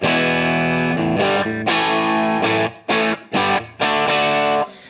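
Electric guitar played through an amp pushed into power amp distortion, a thick sustained chord followed by a series of short, choppy distorted strums with brief gaps, loud and close.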